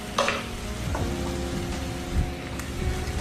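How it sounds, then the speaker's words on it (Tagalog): UFC tomato sauce gisado being stirred in a hot pan for marinara, with a steady sizzle and scraping strokes of the spoon, close and continuous with no talking. "Stir lang natin"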